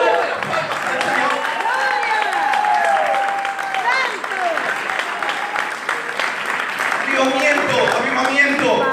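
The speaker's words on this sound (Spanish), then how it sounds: "Dale fuerte las palmas al Señor." A church congregation claps steadily through a lively service, the sustained applause filling the room while voices ring out loudly over it.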